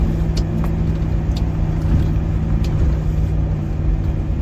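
Land Rover Defender 110 driving off-road, a steady close engine rumble with road-like drone held throughout, no clear revving changes.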